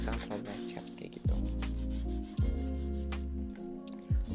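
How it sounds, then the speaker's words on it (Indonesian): AA100 sandpaper rubs along the rounded edges of a mirror frame in repeated close, scratchy strokes, with soft thumps where the stroke changes. A steady low hum runs underneath throughout. "terus tinggal kalian amplas semua pinggiran frame-nya bentuk bulat kayak gitu"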